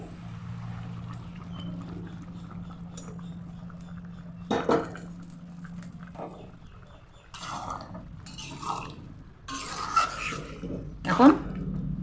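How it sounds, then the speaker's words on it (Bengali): Boiled hot water is poured into a cooking pot of jackfruit curry with goat-fat fritters, splashing in short bursts alongside clinks of metal utensils against the pot, with someone talking over it. "গরম জল আমি দিয়ে দিচ্ছি।"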